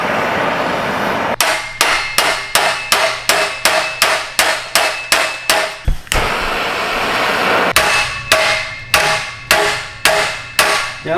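Repeated hammer blows pound a bent minibike frame straight: a steady run of about a dozen sharp metal strikes, a short pause, then another quicker series, loud and close with no talking.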